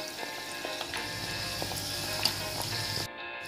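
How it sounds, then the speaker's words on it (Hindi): Moong dal khasta kachori deep-frying in oil over a low flame gives off a soft, steady bubbling sizzle with small crackles scattered through it, fairly quiet and without talk. "खास्ता कचौरी के लिए हमें लो फ्लेम पर ही तलना है"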